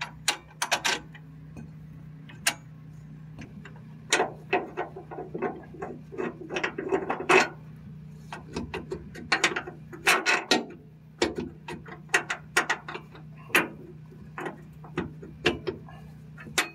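A ratchet tightens the rear shock bolts on a GMC Canyon, making bursts of sharp, close metallic clicks in irregular runs over a low steady hum.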